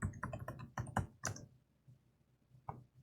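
A password typed on a computer keyboard, a quick close run of crisp key clicks for about a second and a half, then silence and one last keystroke, with no talking.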